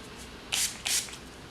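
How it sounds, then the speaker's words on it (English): Two short hissing sprays of makeup setting spray in quick succession, close and crisp, over a quiet background. "spray it with some setting spray"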